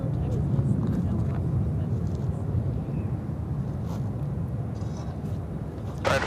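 Envoy flight 3598 climbs out of Chicago O'Hare, a steady broad roar of jet engine noise at an even level throughout, with a brief gust of wind buffeting at the very end.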